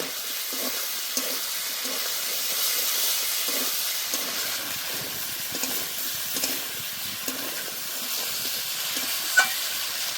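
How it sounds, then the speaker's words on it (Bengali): Slit green chillies frying in a pan with tomatoes for a Bengali tomato tok, a steady close sizzle and hiss broken by repeated stirring scrapes, no voices. "এবার দিয়ে দেবো চেরা কাঁচা লঙ্কা আবার একটু কষে নেব"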